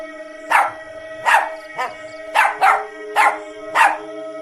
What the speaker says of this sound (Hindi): घर से बाहर निकलता है और चुड़ैल को देखकर भौंकने लगता है